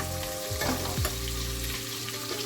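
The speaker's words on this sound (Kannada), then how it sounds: "ಸೊ ನೀಟಾಗಿ ತಿರುಗಿಸ್ಕೊಳ್ತಾ ಇದ್ರೆ ಅದು ತುಪ್ಪ ಹಾಕಿರ್ತೀವಲ್ವ," Vegetable pulao being stirred as it fries in ghee, with a dense, steady sizzle and a few scraping strokes of the spoon close by.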